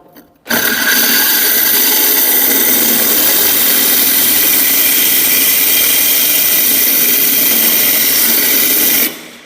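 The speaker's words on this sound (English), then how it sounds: "I just rock the drill from side to side" A power drill whines steadily with a gritty grinding of a diamond hole saw cutting into tile, continuous and loud for several seconds before stopping abruptly.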